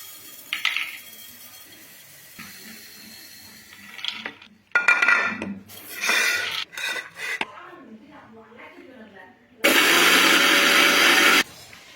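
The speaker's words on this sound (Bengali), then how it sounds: "চলুন ব্লেন্ডারে আমরা এগুলোকে গুঁড়ি করে নিই" A loud, steady whirring burst of a blender grinding mustard and peanuts for homemade plant fertilizer for about two seconds near the end, preceded by scraping, clinking and rustling kitchen handling.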